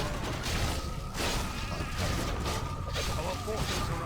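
Sheep bleating from a polymorph spell in Warcraft 3 battle, heard amid busy game sound effects and music, with a person talking over it.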